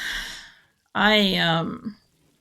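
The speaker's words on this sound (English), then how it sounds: "I keep fucking yawning" A person's long, loud, close yawn, a drawn-out voiced breath that fades into a sigh, preceded by a short breathy exhale.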